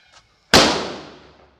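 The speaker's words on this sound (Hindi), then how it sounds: "तो चलिए पेपर बम को लेते हैं और फिर देखते हैं कैसा चलता है ये वाला पटाखा।" A paper bomb firecracker goes off in a single sharp, loud bang, its crackling echo fading away over about a second, after a faint short noise just before.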